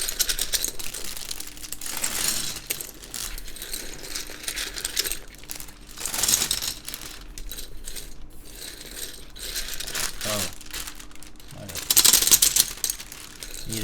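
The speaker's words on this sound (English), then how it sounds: "I'm just gonna put the rest of these keycaps into this bag for now" Plastic keycaps from a Hatsune Miku edition TKL mechanical keyboard being dropped into a plastic bag, a scattered run of light clicks and clatters with bag crinkling, at close range under quiet talk.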